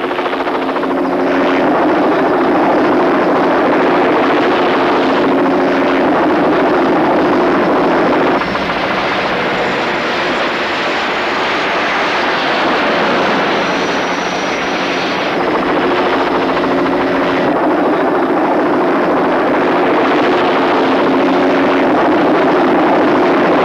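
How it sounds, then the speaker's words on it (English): Loud, continuous thrum of a helicopter's rotor and engine, close and sustained, with slight shifts in pitch as it moves. "the husband Roland takes the helicopter and starts chasing him."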